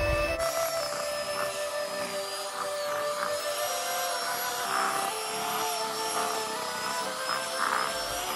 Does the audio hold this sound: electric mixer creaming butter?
yes